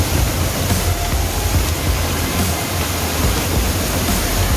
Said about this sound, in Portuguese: Cachoeira Salto de São Jorge!